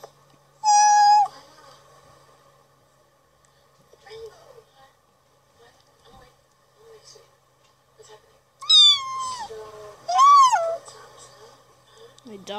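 Several high, clear cat meows: one near the start, then two more close together near the end, with faint background noise between.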